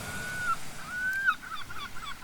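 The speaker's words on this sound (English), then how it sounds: "we've got the seagulls going off" Seagulls call by the sea as the tide comes in, a few drawn-out cries, one fairly clear and others more distant, over a soft wash of background noise.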